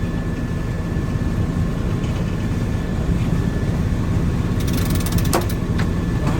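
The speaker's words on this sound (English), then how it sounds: "How are you cranking the main out without the furling line?" A sailboat's mainsail is cranked out by hand on a winch, giving a steady mechanical grinding hum with faint ratcheting clicks and a brief metallic rattle near the end.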